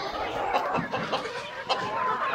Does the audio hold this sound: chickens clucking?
yes